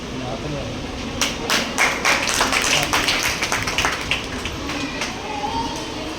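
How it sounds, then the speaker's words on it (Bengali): A crowd applauding at an Independence Day gathering of a women's welfare society, a dense burst of clapping that swells in the middle and fades, heard under someone speaking. "জোরে হাততালি হোক"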